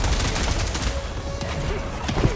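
A Helldivers 2 machine gun firing a rapid, continuous burst of shots, loud and close, with sharp rattling reports packed densely over about two seconds.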